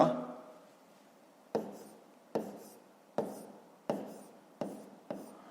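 A pen scratches out math by hand on paper in a quiet room, first a longer stroke, then six short, evenly spaced bursts of writing, each with a sharp start and a fading tail, close and soft.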